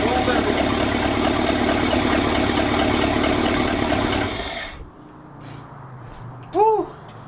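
A 1966 vehicle engine idles steadily while fed from a jerry can, a loud, even rumble that stops about two-thirds of the way through, leaving quiet room sound and a short voice.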